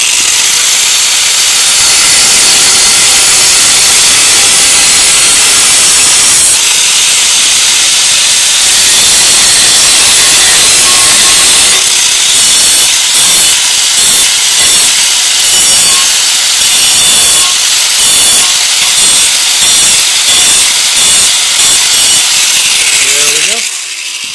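An angle grinder cuts through scrap metal on a broken trailer, a loud continuous abrasive hiss that shifts into a rapid pulsing rasp partway through, then stops abruptly near the end.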